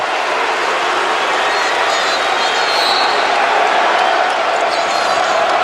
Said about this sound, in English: Taylor lit up the crowd with that block shot